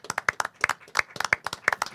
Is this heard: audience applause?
yes